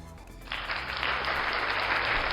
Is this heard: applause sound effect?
yes